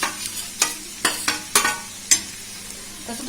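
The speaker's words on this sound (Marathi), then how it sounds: "मग काय भेंडी घातली की 2 मिनिटं परतला की झाला." Okra being stir-fried on a flat iron griddle (tava), with a series of sharp scraping and stirring strokes over a soft background sizzle, close and clear with no talking.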